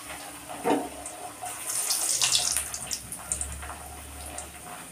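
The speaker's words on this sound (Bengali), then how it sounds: "এবার তেলটা গরম হয়ে গেছে, যে তেল বসিয়ে দিয়েছি কড়ার মধ্যে, তেলটা গরম হয়ে গেছে। এবার এক এক করে ভেজে নেব।" Soft flaky khasta parathas fry one at a time in hot oil in a karai, giving a steady broadband sizzle that swells briefly near the start and holds moderately loud throughout, with no talking.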